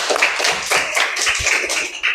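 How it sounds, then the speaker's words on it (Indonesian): Students in a classroom clap together at close range, a lively burst of hand claps with a loose, uneven rhythm that continues briefly without talk. "Tepuk tangan. Beri aplaus."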